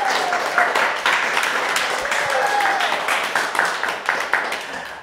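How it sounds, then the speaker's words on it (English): A group of young children clap together after a poetry reading, a dense, uneven patter of small hands with faint voices mixed in, rising and falling over several seconds. "let's clap"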